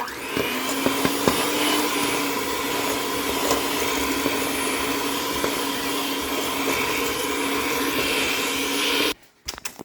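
Electric mixer whirring steadily through apple cookie batter, a loud continuous motor drone that runs nearly ten seconds before cutting off abruptly, followed by a brief quieter rattle.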